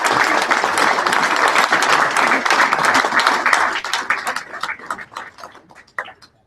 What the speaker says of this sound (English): I would wonder if you would all help me with a wonderful round of applause.